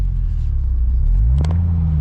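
Low steady rumble of a Corvette C6 ZR1 engine heard from inside the cabin, a deep droning hum that swells slightly near the end, with no talking.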